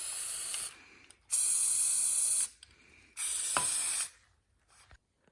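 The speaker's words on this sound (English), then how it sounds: "you're gonna want to spray paint one, the next, then the last one." A spray paint can sprays paint onto water for shoe dipping, giving three separate hissing bursts about a second long each, with short quiet gaps and faint clicks between them.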